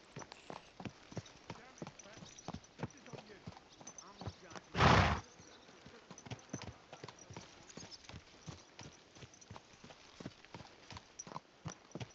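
Rhythmic horse hooves clip-clop steadily on a hard surface throughout in the video game Kingdom Come: Deliverance, with a brief loud burst midway and someone talking quietly over the footsteps.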